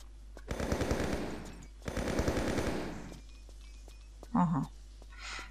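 Two long bursts of rapid automatic gunfire in a custom Tomb Raider level, loud and close, separated by a short pause, followed by quieter clicks and a brief muffled thud.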